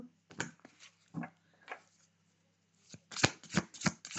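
Tarot cards are shuffled and laid out in a run of soft, close riffles and flicks, scattered bursts with quiet gaps, no talking over them.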